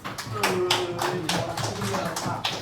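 Students in a classroom clap together in a brisk, rhythmic round of applause, with voices talking over the clapping.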